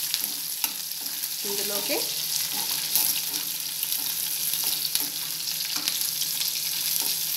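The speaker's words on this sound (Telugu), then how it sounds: "ఆనియన్స్ ఎక్కువ ఫ్రై అవ్వాల్సిన పని లేదు" Onions fry in a pan for dal while being stirred, a continuous close crackling sizzle with scraping stir strokes throughout; a voice speaks briefly near the start.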